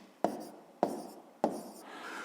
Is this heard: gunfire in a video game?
no